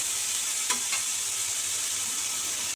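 Steady, loud sizzling of eggplant frying in hot oil, with a couple of brief clinks as pieces are moved around the pan.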